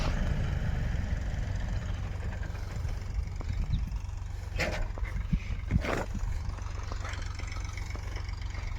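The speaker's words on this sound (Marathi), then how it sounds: "हे मोठ्या ट्रॅक्टरनं रोटरायला चालू आहे" A large tractor pulls a rotavator through a field, giving off a continuous low engine rumble and churning drone at steady moderate loudness, with a couple of brief higher scrapes partway through.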